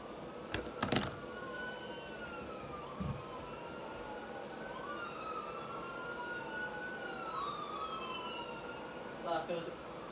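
A passing ambulance siren rises and falls steadily in the distance, faint and continuous, with a few brief knocks and rustles nearby.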